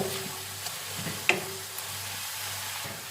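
Noodles and lacquered pork stir-frying as they reheat in a pan, a soft steady sizzle with a few light clinks of the utensil against the metal.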